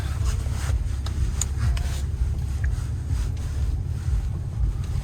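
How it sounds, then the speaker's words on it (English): Interior cabin of a 2018 Ram 3500 Laramie Crew Cab 4x4 pickup on a short test drive around a dealer lot: a steady low road and engine rumble with wind-like hiss, no talking. "Now I'm gonna do a little short test drive for you around the lot here."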